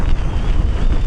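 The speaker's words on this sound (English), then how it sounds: "We're having really, really strong winds right now." Hurricane winds near 83 mph on the Outer Banks pound the microphone in a loud, unbroken roar with rough gust pulses throughout, no voices heard.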